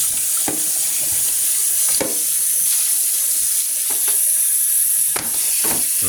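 Steady running water pours from a tap while pork is washed and squeezed, with occasional clunks and splashes of handling in a sink.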